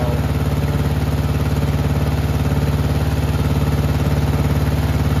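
A lawn mower engine that had been leaking oil by the carburetor runs at a steady idle, loud and close, with an even rapid chugging pulse and mechanical clatter throughout, no voices.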